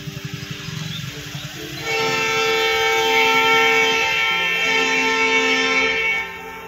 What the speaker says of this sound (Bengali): এবারে দেখুন, আপনারা ট্রেনের আওয়াজও শুনতে পাবেন।